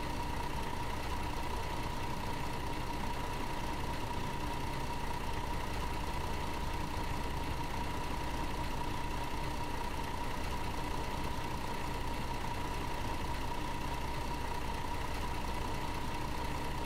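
A tour bus engine idles steadily in Tourist Bus Simulator, a constant low hum with a faint tonal whine that holds unchanged for the whole stretch, with no voices over it.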